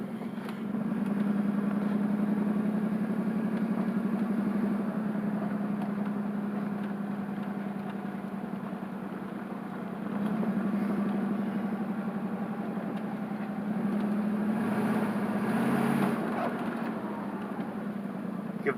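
A car engine runs steadily throughout, a low continuous drone that swells and eases a few times as it is driven, with faint background noise and no talk over it.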